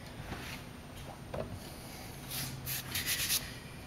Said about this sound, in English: Scraping lightly is quick and easy. It just takes the top layer of material off.